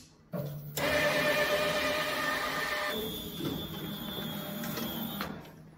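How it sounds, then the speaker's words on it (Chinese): Inkjet printer powering on and initialising: a click, then a loud mechanical whirring of motors for a couple of seconds, shifting to a quieter steady hum with a thin electronic whine and a few clicks near the end. "打印机开机。"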